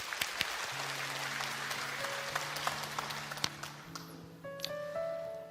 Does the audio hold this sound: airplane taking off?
no